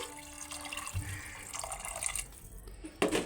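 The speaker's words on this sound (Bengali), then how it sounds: "পরিমাণ মতন জলটা দিয়ে দিচ্ছি" Water is poured into a Bengali banana flower and chickpea curry (mochar ghonto) while it cooks, a soft, faint splashing and trickling that runs steadily over a few seconds, ending in a brighter splash.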